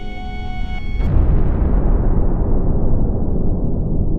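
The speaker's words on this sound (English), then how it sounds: "When lava pours out near the sea surface, tremendous volcanic explosions sometimes occur." A sudden deep, booming volcanic explosion near the sea surface cuts off a sustained tone, then a loud, rumbling roar continues and slowly fades.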